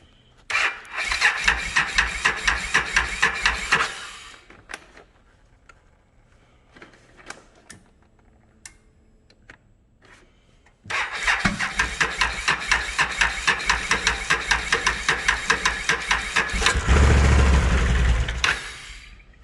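A Can-Am Outlander XMR 1000 ATV cranks with a fast rhythmic starter chatter in two long bursts separated by a quiet pause, the second attempt ending in a louder low rumble as the engine catches.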